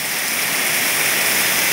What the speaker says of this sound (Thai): กลับไม่ได้ฝนตก อยู่ที่โรงเรียนตอนนี